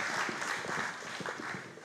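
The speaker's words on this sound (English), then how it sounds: "Let's give him a round of applause" A short burst of applause from a crowd, many hands clapping together in a brief, even patter.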